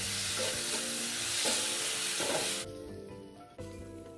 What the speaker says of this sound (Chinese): 接着再将肉片加入，高火快速拌炒， 炒至酱汁收干